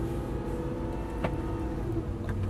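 A Nissan GT-R sports car accelerates gently on a test track, heard from inside as a steady, moderate engine drone with low rumble and a faint rising hum, no talking over it.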